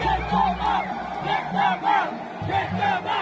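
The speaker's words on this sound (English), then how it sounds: "at one point everyone in the stadium was chanting for them to be removed" A stadium crowd chants for the Island Boys to be removed, a loud mass of voices rising and falling in rhythmic waves.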